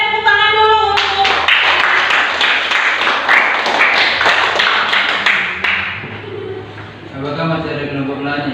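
Classroom applause, a burst of clapping by students lasting several seconds, framed by tonal voices before and after and with some talk running underneath.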